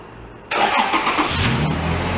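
A Toyota Tacoma pickup engine cranks and catches abruptly, then settles into a loud, steady mid-pitched running note with a slight rise in revs, heard alone without talk.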